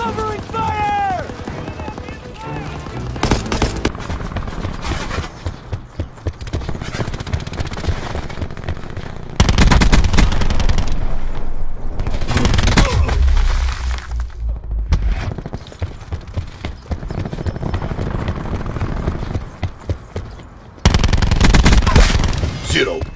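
Machine gun covering fire in a Call of Duty video game, with loud sustained automatic bursts, booming impacts and explosions, and game voices shouting over the gunfire.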